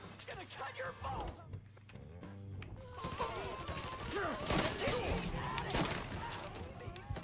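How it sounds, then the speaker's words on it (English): Gunfire in the Mafia III video game, scattered shots and impacts with crashing thuds in a chaotic firefight, mixed under loud, excited talking. "Fucking shooting at me like that"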